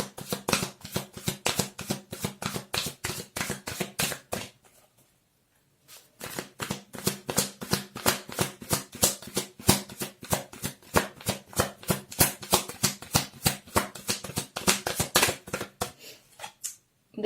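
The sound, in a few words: shuffling tarot cards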